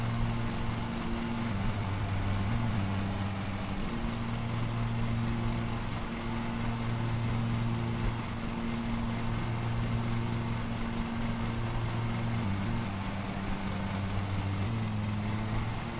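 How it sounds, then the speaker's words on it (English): A lawn mower engine in the video game Lawn Mowing Simulator runs overloaded, a steady droning hum with a wavering pitch that dips and recovers several times, continuous and fairly loud with no talk over it. "I'm overloading the engine"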